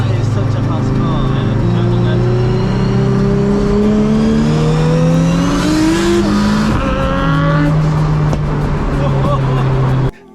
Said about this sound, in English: That is such a fast car.